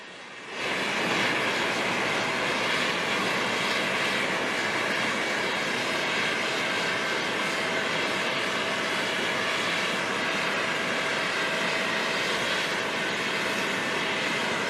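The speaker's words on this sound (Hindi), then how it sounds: "ये इंडियन एयरफोर्स का एक विशेष विमान है जिसमें भारत के प्रधानमंत्री जी मॉरिशस पहुँचे हैं" An Indian Air Force special aircraft that has just landed at Port Louis airport in Mauritius produces a loud, continuous jet engine roar, steady and broadband for the whole stretch, with no voices.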